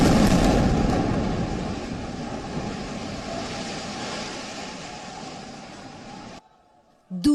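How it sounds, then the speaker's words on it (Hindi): An air strike explosion slams into a building in Gaza with a loud, deep boom. A long rolling rumble follows and fades slowly over several seconds before cutting off abruptly. "पहला धमाका।"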